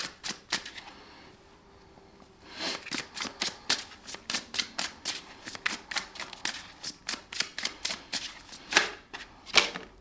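A deck of Witches' Oracle cards is shuffled close up, a rapid run of crisp slapping riffles in bursts, fairly quiet with short pauses between shuffles.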